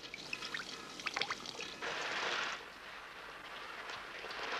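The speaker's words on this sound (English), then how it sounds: "fed by a constant trickle of liquid nutrients" Liquid nutrient solution trickles steadily through hydroponic growing channels, a faint, continuous watery pour with a few brief splashy bursts, heard alone at a close distance.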